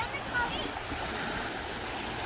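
Sea waves wash onto a winter beach at Maamoura, a steady close hiss of surf with faint voices talking underneath.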